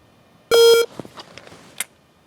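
A single loud electronic shot timer start beep, sharp and steady for a moment, followed by quieter clicks and rustling handling sounds at a pistol holster drill.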